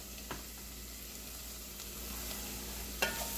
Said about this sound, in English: And we'll get these stirring around.